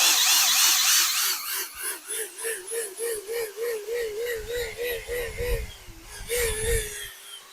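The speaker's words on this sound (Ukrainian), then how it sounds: "Бачите, з імпульсом дуже прекрасно викручує." A Grosser GCD 161KBT cordless drill driver whirs in rapid pulsing impact bursts as it backs a screw out of wood, the motor pitch wavering with each impact.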